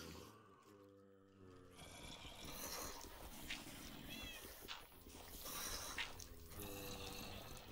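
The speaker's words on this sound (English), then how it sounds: "That is a cat." A cat meows a few times, fairly close, amid a steady background hum and bustle in a Minecraft game session.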